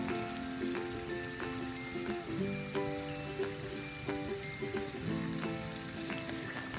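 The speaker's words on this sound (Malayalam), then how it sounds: "ഇത് പെട്ടെന്ന് തന്നെ ഫ്രൈ ആയി കിട്ടും" Kerala four o'clock snacks coated in rice-flour batter fry in hot oil, a steady dense sizzle with crackling bubbles running the whole time, close and fairly loud, with soft clinks of a utensil turning the pieces.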